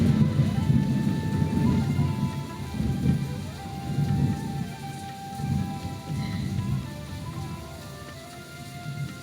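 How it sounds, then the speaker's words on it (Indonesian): Thunder rolls in deep, repeated rumbles through steady rain pattering on surfaces, loud and close throughout, with no clear talking. "ada suara petir dan sepertinya terekam ya"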